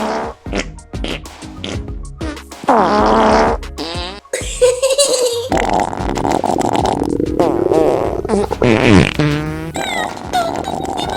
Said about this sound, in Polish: Maszyna do puszczania bąków!